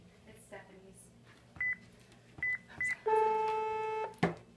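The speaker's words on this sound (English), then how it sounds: "What's JP's extension?" Telephone keypad dialing tones, a few short beeps then a long steady ringback-style tone, in an office while calling a co-worker's extension; brief talk nearby.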